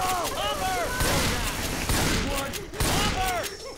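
Shotgun fire in the video game Left 4 Dead 2, a rapid string of loud close blasts with dense bursts of shots amid chaotic game noise and shouting voices.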